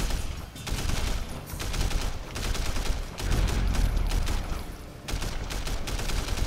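Rapid bursts of gunfire from a shootout in the open-world action game Sleeping Dogs, dense overlapping volleys and automatic fire sustained loudly throughout with brief dips between barrages.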